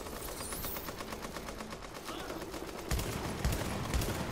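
Rapid automatic gunfire in the shooter game Tom Clancy's The Division, a dense stream of fast shots that grows louder and heavier in the final second and a half, with no talk over it.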